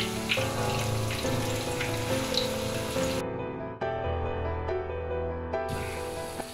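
Jaffna-style chana dal vadai deep-fry in hot oil, crackling and bubbling in a steady dense sizzle, with a louder burst partway through and no talk.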